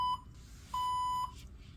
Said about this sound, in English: The blood flow rate has exceeded, so our alarm has alerted